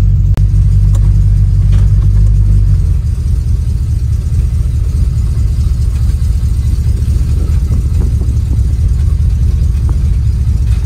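A 1936 Chevy car rumbles with a deep, loud engine drone, first idling steadily and then shifting into a rougher, continuous running sound as it sets off on a short test drive, with no voices.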